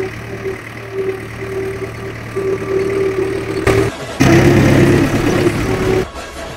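Tractor engine running loud and close during a ride, a steady mid-pitched drone with a rise in revs partway through and brief dropouts near the end.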